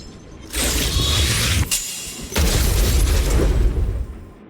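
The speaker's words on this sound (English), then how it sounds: "We wiped them all out in a single explosion!" A big explosion in Honkai Star Rail wipes out a group of enemies at once: two sustained, loud broadband blasts with crackling debris, separated by a brief dip, with no talking.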